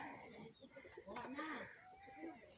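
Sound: chickens on a farm

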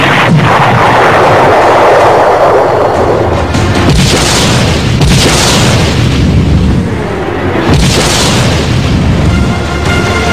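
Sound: ballistic missile launch from INS Arihant nuclear submarine

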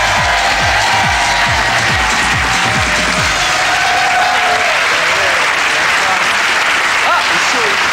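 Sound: studio audience applause welcoming Daniel Lavoie

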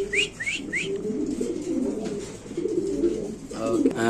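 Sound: Lahori pigeons cooing at pigeon farm

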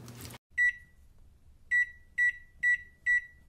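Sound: microwave oven melting a stick of butter

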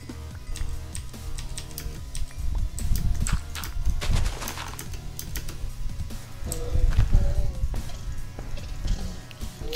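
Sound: horse in Minecraft video game

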